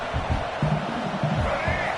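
A college football stadium crowd roars in a sustained, loud rumble as fans try to rattle the opposing offense, with a commentator's voice running over the noise throughout.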